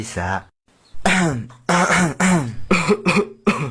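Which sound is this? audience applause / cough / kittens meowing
cough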